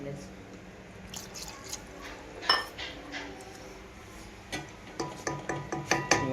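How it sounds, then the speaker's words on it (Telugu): A lid set onto a cooking pot of curry simmering with water gives a sharp metallic clink, followed by lighter clinks and clatter in a home kitchen. "ఇంక దీని మీద మూత పెట్టేసుకున్నాం"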